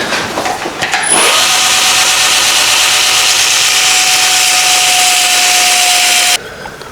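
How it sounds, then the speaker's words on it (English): A linisher belt sander takes a little off the corner of a bracket where it hits a bolt head while a supercharged minibike is assembled; a loud, steady abrasive whir with a sustained grinding tone runs for about five seconds, then stops. "So we'll just take a little bit off on the linisher."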